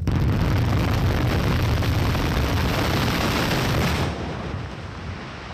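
A massive, sustained roaring rumble from a 6,500 kg dynamite blast breaking rock along a 200-metre stretch of road works, a huge blast and its rolling aftermath, fading slightly toward the end.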